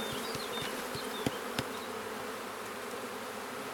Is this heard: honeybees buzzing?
yes